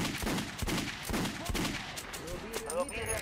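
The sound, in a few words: gunfire at target dummies in video game Metro Last Light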